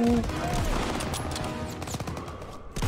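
Rapid gunfire from a World War II first-person shooter game rattles steadily through the whole stretch, dense bursts layered over battle noise with voices talking over it.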